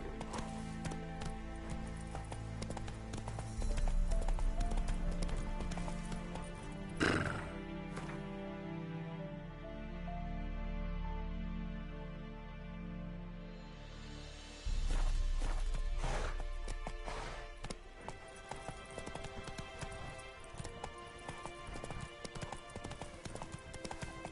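In a video game, the horse Roach gallops with loud, quick clip-clop hoofbeats, and a neigh comes through briefly, all over a swelling music bed.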